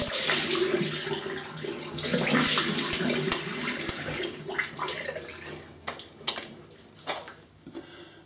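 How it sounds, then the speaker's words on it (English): Tap water running into a sink for rinsing the face after shaving, a steady close splashing stream that eases off into intermittent drips and small splashes. "let me have a quick rinse and then we'll see if there's any pickups needing done"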